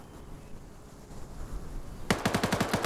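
Gunfire in a PvP video game match, with enemy soldiers being sniped on rooftop hangars: a faint distant shot or two early on, then a sharp burst of rapid, evenly spaced automatic shots close by near the end.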